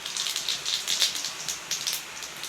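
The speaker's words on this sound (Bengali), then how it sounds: "তেল গরম হয়ে গেছে, আমি অল্প পরিমাণে জিরে দিয়ে দিলাম" Cumin seeds crackle and sizzle in hot oil in a pan, a faint, dense patter of tiny pops and hisses running steadily throughout.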